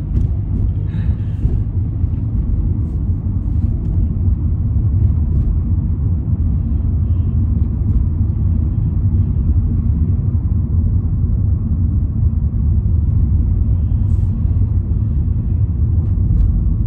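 Inside a learner car during a driving lesson, a low engine and road rumble drones steadily throughout, loud and continuous, with an instructor's voice talking over it.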